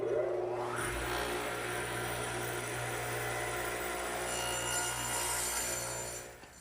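Radial arm saw with its arm swung 12.5 degrees, spinning up and cutting wood against the fence; a loud, steady motor whine and blade drone run throughout, then wind down at the end.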